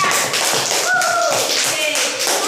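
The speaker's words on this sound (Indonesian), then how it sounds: "mari kita beri tepuk tangan untuk Aga." Schoolchildren in a classroom give a short burst of hand clapping, uneven and close, with some voices and shuffling mixed in.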